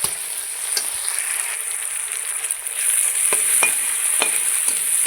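Red tomatoes are stirred into a sizzling tempering for mixed vegetables, a loud continuous frying hiss with several spoon scrapes and knocks against the pan up close, growing slightly louder midway.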